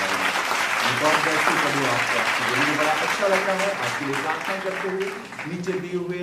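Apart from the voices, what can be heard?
congregation applause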